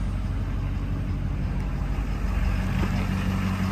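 2015 Ford F250 truck engine running steadily after a cool start, a low, even rumble with constant idle hum, moderately close and alone without talk.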